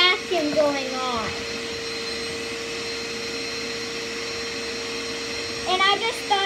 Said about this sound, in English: Because there's a vacuum going on.